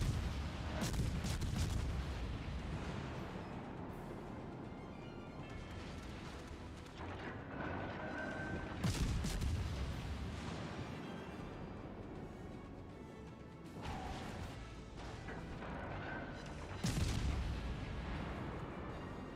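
Warship guns boom in World of Warships: Legends, with deep, rumbling salvos of armour-piercing shells landing roughly every eight seconds over a continuous low battle roar.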